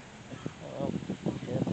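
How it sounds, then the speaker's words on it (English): A duck calls from near a town fountain in Celebration, Florida, giving a rapid series of nasal honking quacks, fairly close and clear, with a person talking softly underneath. "some type of duck there"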